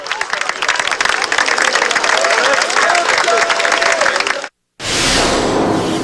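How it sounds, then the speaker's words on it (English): Roadside spectators at a Tour de France stage in Switzerland applaud politely, a dense, steady wash of clapping that runs loud and continuous, cuts out briefly, then resumes at full strength. "The crowd politely applaud"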